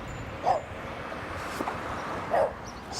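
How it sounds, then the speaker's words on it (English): A dog gives a few short, high yips and whimpering barks outdoors on a lawn, about two or three calls over steady background noise. "there's a dog over here"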